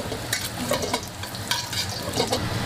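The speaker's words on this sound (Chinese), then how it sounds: "锅烧热，倒入菜籽油， 加入姜片煸香，" Ginger slices sizzle and crackle in hot rapeseed oil in a wok, with a spatula scraping and stirring in quick bursts, close and clear with no talking.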